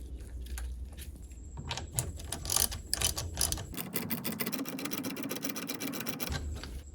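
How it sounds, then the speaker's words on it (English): A 7/16 nut is screwed onto a stud on a Mercruiser Alpha One Gen 1 outdrive, with a faint, close, rapid run of metallic ratcheting clicks that continues steadily for several seconds. "Next, install your washer and screw on your 7/16 nut."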